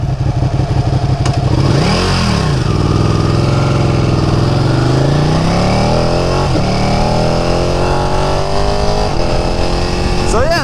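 A cruiser motorcycle engine runs loudly and close, its pitch rising and falling as it revs and shifts, with one swell sweeping past.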